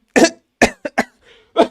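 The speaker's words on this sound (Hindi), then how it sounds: "खांसी आ रही" A man coughs several times in quick, sharp bursts close up, with a faint throat sound between them.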